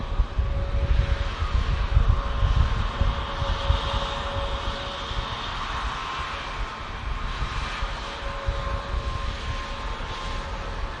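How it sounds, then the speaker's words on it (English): A Turkish Airlines Airbus A321neo at Manchester Airport in strong winds. A steady, moderately distant jet engine roar and whine hold throughout, with gusty rumble underneath. "Great view of this Turkish A321neo."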